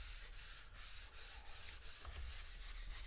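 Squeegee pressing and smoothing vinyl flat onto a canvas panel, a steady dry rubbing and scraping with faint repeated strokes, close and continuous with no talking.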